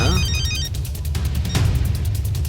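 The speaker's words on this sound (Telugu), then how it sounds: "ఫోన్ నేను చేస్తాను చూడు." A telephone rings repeatedly on an outgoing call in a Telugu film scene, a steady run of evenly spaced electronic ring pulses over a low hum, with no voices.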